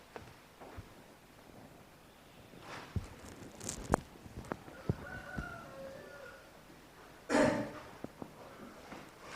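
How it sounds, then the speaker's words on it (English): A rooster crows outdoors at a distance, one loud burst standing out near the end amid quiet background ambience and a few scattered clicks. "Does that cockerel that's cocking outside know it is a cockerel?"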